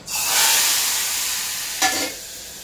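A hot tempering of cumin, mustard seeds and curry leaves is poured slowly into dal and bursts at once into a loud sizzle that fades gradually, then flares again in a short second hiss.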